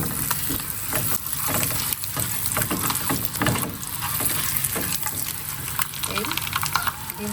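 Egg-coated potato fritters (alu ghati) fry in hot oil, a steady close sizzle and crackle running throughout with scattered spits and pops, while a voice talks over it.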